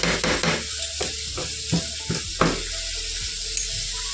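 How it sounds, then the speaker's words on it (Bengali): Fish frying in a pan in a home kitchen, a steady close hiss of sizzling oil with a few brief clinks and stirring knocks, no voices. "এই মাছটা ভাজা হয়ে গেল"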